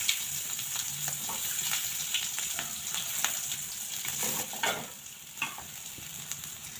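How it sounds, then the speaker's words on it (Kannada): Chopped onions fry with dried chillies in a pan, a continuous close sizzle broken by repeated scraping stirs and occasional sharper spatters. "ಈರುಳ್ಳಿನ ಹಾಕಿ ಚೆನ್ನಾಗಿ ಫ್ರೈ ಆದ ನಂತರ"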